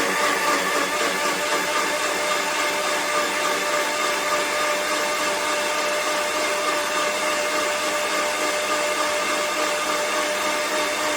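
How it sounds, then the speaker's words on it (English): A blender whirs loudly and steadily, blending a green smoothie. The motor drone holds constant for the whole stretch, close and unbroken, with no voices. "That all goes into the blender, and we're going to blend away."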